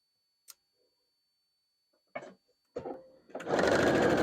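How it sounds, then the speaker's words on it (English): Sewing machine stitching quilt block pieces for a mosaic barn star block: a few faint taps and short bursts, then a loud, steady run of rapid stitching at the end. "All right, now we're sewing this on to the other side."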